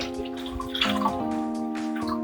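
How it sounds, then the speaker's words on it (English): A cup of chicken stock pours into a pot while ossobuco is being cooked, a steady splashing liquid sound, close and continuous, with a sustained tonal hum underneath and no talk. "Another cup of chicken stock here, because I use the little tubes here, and we're gonna add another cup here."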